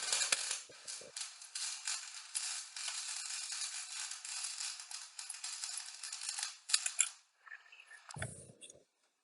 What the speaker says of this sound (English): So let's hit the table and let's try and weld.